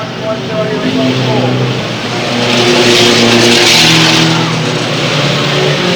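Race cars passing on a stadium oval track at Arlington Stadium, loud engines that swell and roar by up close with some tire squeal, while an announcer commentates over them.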